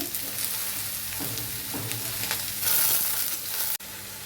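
Tomato, salt and turmeric added to a frying pan for a Bengali gourd and lentil dish, a strong close sizzle with stirring scrapes and a brief surge of hiss, then a sharp knock near the end.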